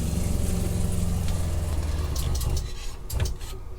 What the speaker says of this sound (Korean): 모터는 정말 큰 걸로 바뀌었어요. 그래서 소음 부분 한번 들려드릴게요.